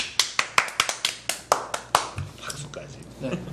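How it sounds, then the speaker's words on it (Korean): A few people clap in a room, about a dozen sharp close claps in an uneven rhythm that thin out, followed by faint voices. "박수까지."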